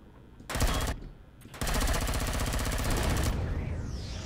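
Video game gunfire aimed at the player in Cargo Hold: a short burst of rapid automatic fire, a brief pause, then a longer loud sustained rattling burst that cuts off abruptly.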